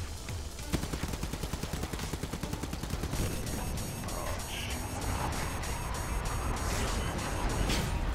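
Gunfire in the shooter game Hardware Rivals during a quarry deathmatch, starting as a rapid steady stream of shots and thinning into scattered bursts over engine rumble, with no speech.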